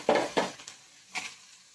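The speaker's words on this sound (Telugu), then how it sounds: "ఇప్పుడు మనం స్టఫింగ్ పెట్టిన గుత్తి వంకాయల్ని ఈ ఉల్లిపాయలలో వేద్దామండి" Stuffed brinjals are set into lightly browned sizzling onions in a frying pan, giving two quick clattering thuds and a later soft clink over a faint, quiet sizzle, with no talking.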